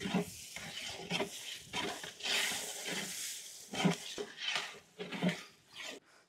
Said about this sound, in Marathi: पेस्ट व्यवस्थित मिक्स करून घेऊ।